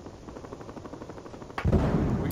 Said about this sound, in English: Yeah, that's right, I used a gun.